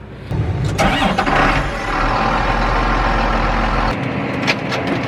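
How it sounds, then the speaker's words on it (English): A tractor engine cranks and catches, then settles into a steady, loud low rumble as it idles to warm up, with a few brief clanks over the drone. "get the tractor started, let it warm up."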